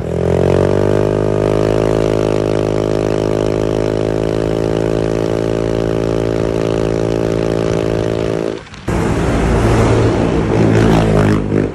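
A Honda Click scooter fitted with an aftermarket exhaust pipe runs at a steady, loud rev for several seconds, then drops briefly before a rougher, noisier burst of engine sound close by.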